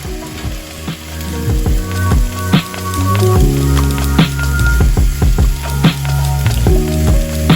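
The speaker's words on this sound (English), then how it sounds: "Add a ladle of vegetable broth at a time and remember that you are making a risotto, not a soup." Vegetable broth is ladled into a pan of risotto rice with pumpkin, setting off a loud, close sizzle and bubbling with repeated spoon clinks and stirring scrapes throughout.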